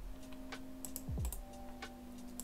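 Keys clicked on a computer keyboard while entering a snap install command, a quiet run of separate taps against a faint steady hum.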